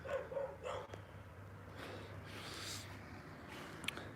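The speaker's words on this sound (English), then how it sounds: "Is that dog seriously just gonna stand there and bark at me this whole time?" A dog barking a few times in quick succession at the start, moderately close, then giving way to a low steady hum and noise.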